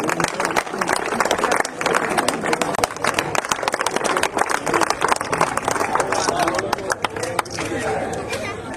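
A crowd clapping at a tiranga yatra rally, dense irregular hand claps mixed with chatter and shouting voices, loud and close, continuing throughout.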